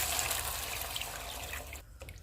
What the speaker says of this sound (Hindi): अब इसमें हम पानी डाल देते हैं।